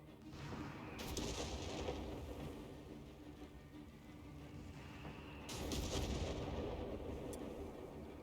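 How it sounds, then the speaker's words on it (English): Distant, rumbling booms of naval artillery from Company of Heroes 3 during a battleship bombardment, several heavy blasts rising in two waves over a continuous low battlefield roar, moderately faint. "This is definitely a battleship bombardment thing here."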